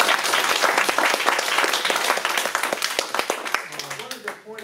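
An audience applauds at the close of a question session at a talk: dense, loud clapping that thins and fades toward the end, where a voice briefly begins.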